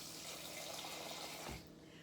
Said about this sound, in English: We add water.